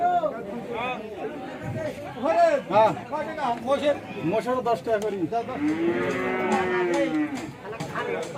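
Cattle moo repeatedly at a busy cow market in Ishwardi, Pabna, with long, loud, near calls rising over constant crowd chatter and talk.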